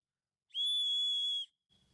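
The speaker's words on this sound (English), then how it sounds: "Let's test the whistle." A small plastic survival kit whistle gives one loud, piercing, steady blast lasting about a second, followed by a faint short tail of sound.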